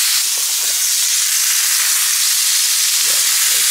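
Ground beef sizzles loudly in a pan with melted butter, a dense, steady frying hiss close by, with a few soft scrapes of stirring near the end.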